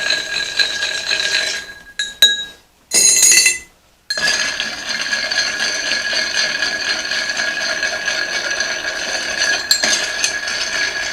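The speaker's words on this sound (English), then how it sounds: "Now, chilled stirring glasses, ice." Ice is stirred in a chilled mixing glass for a martini, a continuous rattling, clinking swirl that runs close and steady, broken by a couple of brief pauses.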